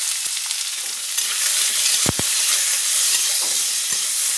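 Chopped onion and green chilli sizzle in hot oil in a pan, a close, bright frying hiss broken by a few soft scrapes and a pair of quick knocks from the spatula while stirring.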